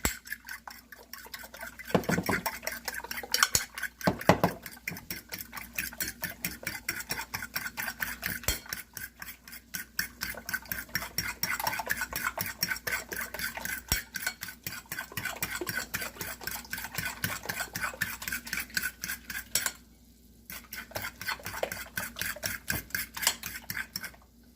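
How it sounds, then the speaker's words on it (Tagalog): Eggs are whisked in a bowl for tortang giniling, a fast, steady clatter of a utensil against the bowl that runs almost without a break, with one brief pause near the end. "Ito ang mga itlog, atin na siyang i-scramble."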